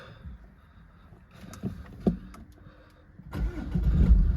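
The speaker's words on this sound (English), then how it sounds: "Start the car up." A Jaguar F-PACE 2.0 D180 R-Sport AWD diesel with a manual gearbox gives a few faint clicks and knocks, then cranks and fires up near the end into a loud, rising engine rumble.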